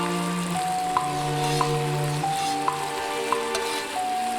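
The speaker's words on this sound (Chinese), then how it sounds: "下入花椒，继续炒出香味" Chicken stir-fried in a wok with Sichuan peppercorns and garlic gives a steady oily sizzle, with a few light spatula scrapes at intervals and a constant tonal hum beneath.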